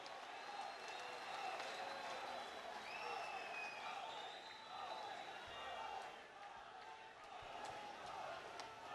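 Continuous crowd applause at a large public meeting in Mumbai with Prime Minister Narendra Modi, a steady roar of clapping and crowd noise holding at an even level throughout, with distant voices mixed in.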